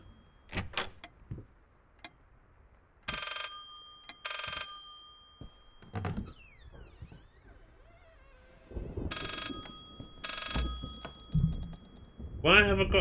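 An old telephone rings in the Layers of Fear VR video game, two double bursts of electric bell ringing separated by footsteps, door sounds and someone talking to himself.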